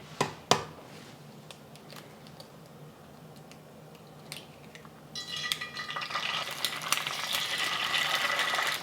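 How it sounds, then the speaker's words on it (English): Eggs frying crispy in about two tablespoons of oil in a pan, a soft crackle that builds into a louder, steady sizzle with scattered pops and spatters, accompanied by a few sharp utensil clinks near the start. "I want to fry my eggs up really crispy"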